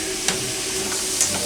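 Mushrooms, onions, carrots and celery sauté in a pot with a steady soft sizzle and hiss. A couple of brief scrapes and clicks from stirring punctuate the sound, close and moderately loud.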